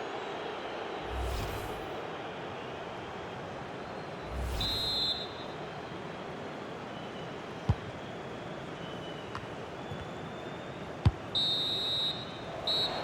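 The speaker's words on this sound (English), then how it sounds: "And so the half-time whistle is sounded here in Manchester." Referee whistle in an EA Sports FC 26 Champions League match between Manchester City and Real Madrid in Manchester: short high whistle blasts around the five-second mark and again near the end, over a steady stadium crowd roar.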